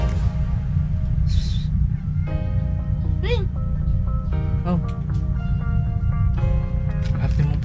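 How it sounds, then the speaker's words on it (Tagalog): A cat meows several times during a power outage, drawn-out wavering cries over a constant loud low rumble, with some nearby voices in between. "Dito na naman yung isang pusa na maingay."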